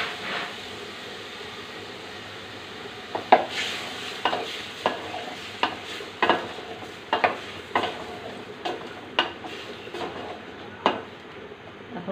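Potatoes and ridge gourd frying in a pan, a low background sizzle punctuated by a dozen or so sharp scraping stirs and knocks of a spatula at irregular intervals, close, with no speech.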